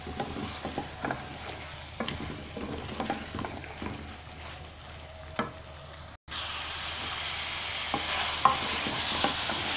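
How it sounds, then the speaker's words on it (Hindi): Chicken fries on high heat in a handi pot, a steady sizzle broken by scraping and clattering stirs, then a sudden louder, hissing burst of frying that carries on, close by and without speech. "2 मिनट तेज़ आंच पे इसको भून लेंगे।"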